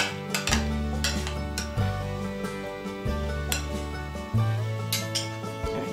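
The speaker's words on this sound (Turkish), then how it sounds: "Bu şekilde yaptığımız zaman mayonez ve yoğurdun iyice karışmasını sağlıyoruz" A spoon knocks and scrapes against a bowl while mayonnaise and yogurt are stirred together, with repeated clinks at a steady rhythm, close and clear with no talk.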